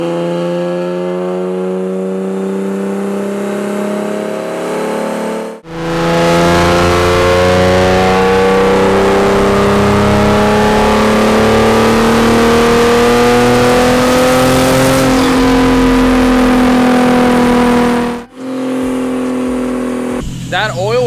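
A Nissan 370Z V6 tuned for high power, revving hard through long dyno pulls on a roller dyno, loud and sustained with rising engine pitch, broken by short pauses between runs.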